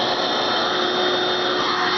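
A household vacuum cleaner runs with a steady, loud, even whine and airy roar that holds for the whole stretch, close by and without talk.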